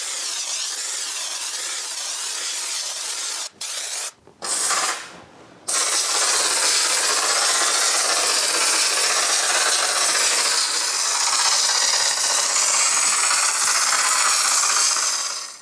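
An air hose sprays rust protection onto the cabin of an old car with a steady, loud hiss, broken by a few short pauses near the start before running continuously, close to the microphone, with no talking.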